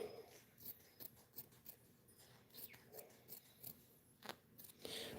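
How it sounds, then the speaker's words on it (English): Small, very sharp stork-shaped scissors snip yarn for a crocheted rug: a faint, close series of crisp, irregular cuts in an otherwise quiet room. "these little stork scissors"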